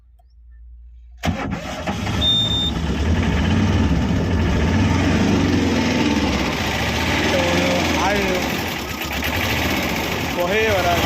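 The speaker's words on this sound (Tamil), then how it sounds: "வண்டியை ஸ்டார்ட் பண்ணி பார்ப்போம்." A 2012 Tata Ace mini truck cranks briefly and catches, then settles into a steady, close, rattly idle that keeps running to the end.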